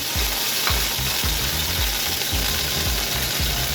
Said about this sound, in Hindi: ये गरम मसाले चले, इनको हल्का सा सौते करेंगे।